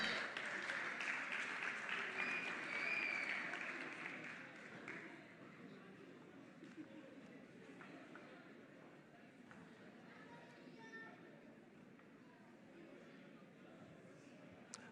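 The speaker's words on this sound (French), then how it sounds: "Est-ce qu'on peut encore applaudir?" Audience applause at a gospel competition final, loud and dense for the first few seconds, then thinning into lighter scattered clapping and crowd chatter.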